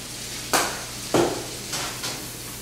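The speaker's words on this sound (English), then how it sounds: "we're going to saute this on until it starts to caramelize and get real nice and delicious" Seasoned chicken with kosher salt and coarse pepper sauteing in a pan, a soft steady sizzle broken by a few sharp stirring scrapes and hisses spaced about half a second apart.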